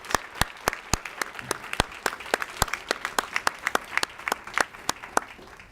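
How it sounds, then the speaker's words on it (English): Audience at the Cox Institute Gala 2019 applauds its student leaders, a steady run of distinct, fairly sparse claps, near and alone without talk. "let's just give all of our 11 leaders another round of applause"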